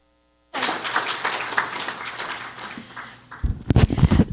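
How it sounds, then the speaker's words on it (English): An audience at an MIT lecture event applauds, a burst of clapping that starts abruptly, holds for a few seconds, then fades before louder nearby sounds take over. "can we give her a round of applause"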